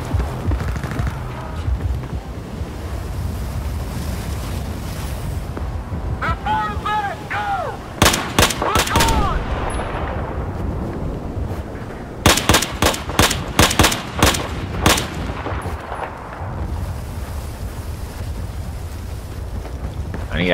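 Battlefield 4 campaign combat on PS4: dense video game gunfire, with bursts of sharp rapid shots and heavy booming blasts over a constant roaring rumble of wind and engine-like noise.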